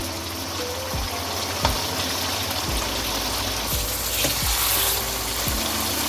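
Meat and potatoes for aloo gosht sizzle in hot oil, a loud continuous frying hiss broken by repeated stirring scrapes, with no talking.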